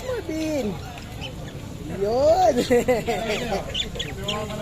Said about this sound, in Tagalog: Nagtitingin tayo ng mga ibon.